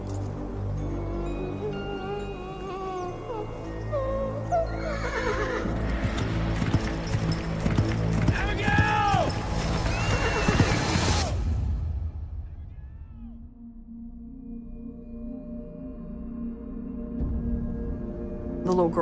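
Horse sounds, with snorting and a rising and falling whinny, mixed into a busy, dramatic soundscape with swooshing effects that cuts off abruptly midway, then continues as a quieter low drone.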